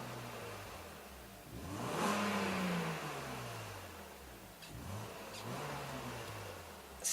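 A BMW Z3 roadster with a 200-horsepower six-cylinder engine drives along, its exhaust muted and smooth as the engine note climbs and falls through gear changes, heard from inside the low-slung cabin under steady road noise.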